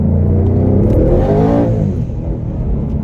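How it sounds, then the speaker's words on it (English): Turbocharged car engine in second gear revving hard under a light throttle stab with electric exhaust cutouts open, a loud close rising roar that swells and then settles back to a steady rumble, with no talking. "with just a little stab of the throttle, you get that immediate spool up of the turbos, and it wants to go"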